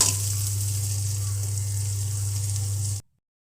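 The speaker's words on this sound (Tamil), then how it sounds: "இது எல்லாத்தையுமே சேர்த்து முட்டையை நல்லா வறுத்து எடுத்துக்கலாம்" An egg dry-roasting in a kadai with pepper, salt and turmeric gives a steady, bright sizzle over a low hum, then cuts off abruptly after about three seconds.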